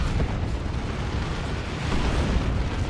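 Plasma cannon fire in a Warhammer 40,000: Dawn of War 2 battle between Chaos Space Marines and Orks, a continuous dense roaring wash of blasts and rumble, loud and unbroken with no distinct separate shots.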